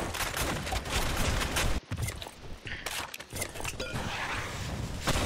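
Dense bursts of gunfire from the video game Blackshot, rapid volleys that break off for a moment near two seconds and then return, loud and close throughout with faint mechanical clicks between the shots.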